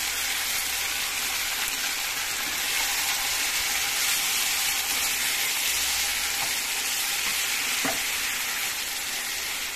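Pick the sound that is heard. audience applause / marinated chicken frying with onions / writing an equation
marinated chicken frying with onions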